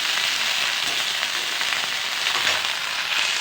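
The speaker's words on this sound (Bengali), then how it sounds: "এবার ব্রোকলিগুলিকে এখন একটু ভালো করে ভেজে নিতে হবে" Broccoli fries in oil in a pan, giving a steady, dense, close sizzle with no talking over it.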